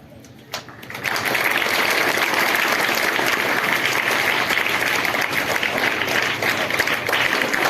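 Applause from a crowd at a meeting for the Sant Sevalal Maharaj birth anniversary breaks out after a single sharp knock, then a dense, steady clapping carries on loudly to the end.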